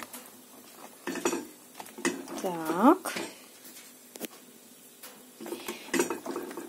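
Metal utensils clink and scrape against a pot in irregular bursts while mushrooms are stirred, with a brief word spoken in Russian midway.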